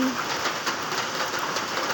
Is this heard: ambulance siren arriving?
no